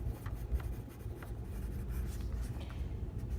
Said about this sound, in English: So we write epidural